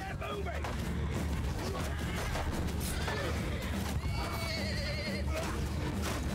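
A horse whinnies amid a cavalry battle in Mount & Blade II: Bannerlord, the neigh rising over dense clashing, shouting and gunfire-like bursts, with a voice speaking over the din.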